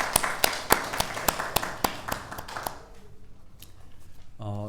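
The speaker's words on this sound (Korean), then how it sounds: "우리 다시 한 번 더 하나님께 영광의 박수 올려드리겠습니다." A church congregation claps in steady rhythmic unison, about ten sharp, evenly spaced claps. The clapping then fades out, and a voice begins to speak at the very end.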